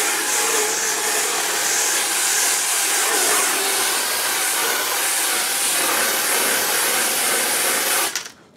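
A steady, loud high-pitched whir and hiss of a drill spinning a cleaning wheel runs continuously for several seconds, then cuts off abruptly at the end.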